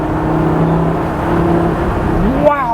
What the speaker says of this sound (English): You hear the throttle? Hear it?